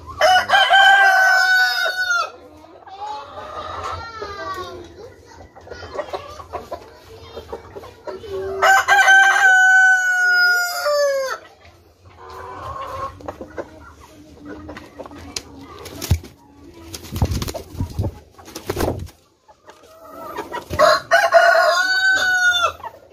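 Backyard chickens clucking while a rooster crows loudly several times, long rising calls repeating between bursts of nearby clucking and scattered thumps.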